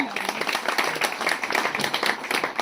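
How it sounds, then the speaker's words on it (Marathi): Continuous clapping from a crowd at a village temple anniversary function, steady and fairly close for the whole stretch, blended with indistinct voices. "टाळ्या टाळ्या."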